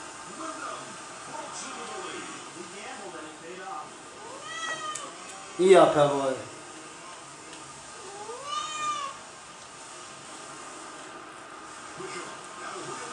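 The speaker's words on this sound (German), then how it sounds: "Das ist meine Katze" A house cat meows several times in short rising calls, one louder and nearer in the middle, over the sound of a Supercross 2000 motorbike racing game while someone speaks German.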